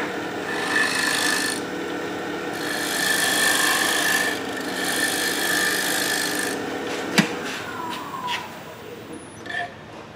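A wood turning tool's sharp edge shears across a half bowl spinning on a lathe, giving a steady raspy scraping hiss that swells and eases in passes, with a sharp knock near the end.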